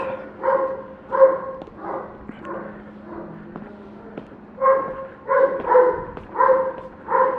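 A neighbourhood dog barks in repeated bursts at a morning hour, some barks in quick clusters with short pauses between them, moderately distant and echoing, with faint traffic noise underneath.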